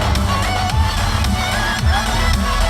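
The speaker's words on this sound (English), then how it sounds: "Good reaction from the crowd." Crowd at a car stunt show at the Perth Royal Show reacts with a steady, broad wash of cheering and murmur over low engine rumble, the noise sustained and fairly loud throughout.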